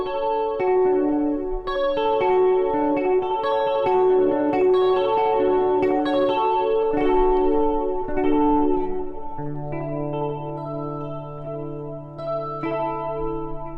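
An electric guitar played through a Triple Threat effects pedal, with a shimmering chorus-like, slightly distorted tone. A run of ringing melodic notes and chords gives way to a long sustained low note, close and clear with no talking.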